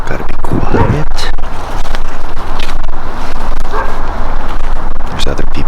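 A dog barks a few times down the slope from a trail in a residential area, fairly close and carrying over steady outdoor background noise, with brief breaks between barks.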